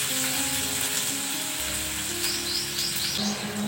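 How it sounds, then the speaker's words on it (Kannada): Onions and curry leaves fry in a pan, giving a steady close sizzle and crackle of hot oil throughout, with faint chirps in the background and no talking. "ಇವಾಗ ಇದು ಚೆನ್ನಾಗಿ ಫ್ರೈ ಮಾಡುವ."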